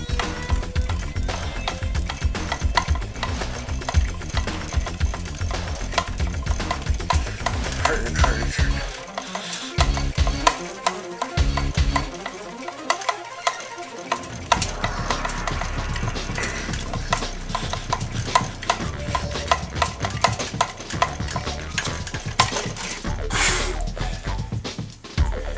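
A hand-cranked alternator prototype turns with a continuous rattling, clattering mechanical churn, up close, its low rumble dropping out briefly midway before the steady whirring and scraping resume, with no talk.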